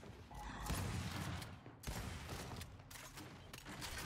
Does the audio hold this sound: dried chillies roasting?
no